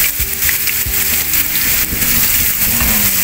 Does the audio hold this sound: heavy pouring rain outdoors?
yes